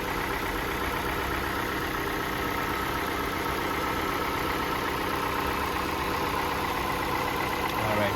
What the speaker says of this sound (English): as you can tell, engine runs nice and smooth